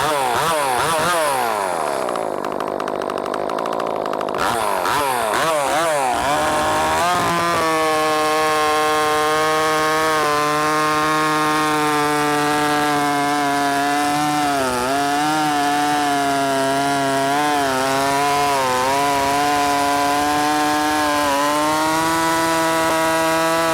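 A ported and polished Echo 590 chainsaw fitted with a custom hammerhead exhaust revs loudly up close, rising and falling through several throttle blips before settling into a steady, high-pitched wide-open scream, with no voices.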